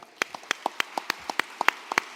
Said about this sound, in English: How about another round of applause for the wonderful opening number?